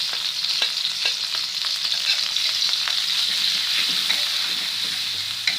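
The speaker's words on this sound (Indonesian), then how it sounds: "Panaskan minyak sedikit buat numis. Ya udah, kita masukkan bawang putih yang udah dihaluskan." Ground garlic frying in a little hot oil for spicy seblak, a steady, loud, close sizzle with crackling pops and occasional stirring taps throughout.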